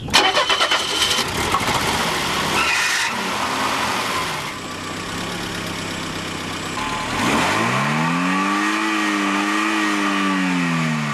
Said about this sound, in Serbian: Ponovo startujemo motor.